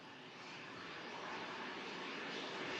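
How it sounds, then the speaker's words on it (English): A Loganair aircraft arriving at Manchester Airport from Inverness during Storm Lilian, its engines giving a steady distant roar that slowly grows louder, alone without talk. "Logan Air arriving in from Inverness."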